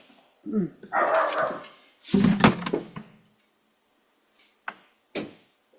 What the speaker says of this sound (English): I adore my dog